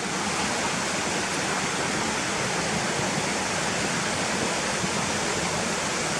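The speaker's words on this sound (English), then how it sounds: "you hear the river running fast to the right of us" Fast-running river water in Gunnerside Gill rushes in a constant, dense roar, steady and fairly close, with no other sounds standing out.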